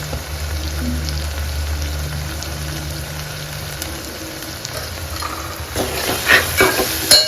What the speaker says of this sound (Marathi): परत एकदा थोडंसं 1 ते 2 मिनटं आपण ह्याला शिजवून देऊया